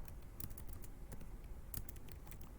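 Computer keyboard keys typed in short irregular bursts, fairly quiet and close, with no voices over them.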